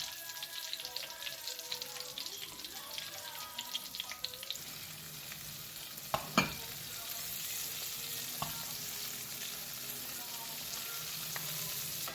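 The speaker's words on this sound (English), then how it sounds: "So now that we have the mushroom frying in the pan" Chicken of the woods mushroom nuggets fry in hot oil in a pan, giving a steady close sizzle and crackle with scattered pops and a few louder spits partway through.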